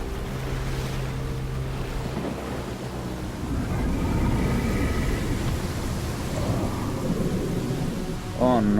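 Storm Terror boss fight in the video game Genshin Impact, with a steady roar of wind, rain and rumbling thunder, stormy game music swelling over it and a louder burst near the end.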